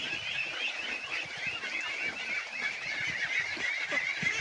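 Pet ducks feeding on snails produce a steady chorus of honking, quacking calls, fairly close and continuous over a busy outdoor background, with no talk.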